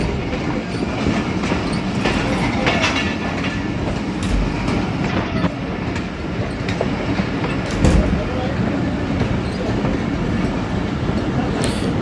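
Shaheen Passenger train and a rail car running side by side on parallel tracks, a steady loud rumble of wheels with rhythmic clickety-clack and occasional squeal, heard from on board, with faint voices.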